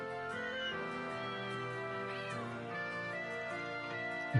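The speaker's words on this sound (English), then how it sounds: "It plays a collection of cute cat sounds I recorded in the capital." Cute cat meows recorded in a capital city, played as a hidden easter egg on a video game website, come as soft repeated mews over a steady tonal backdrop of music, with no talking.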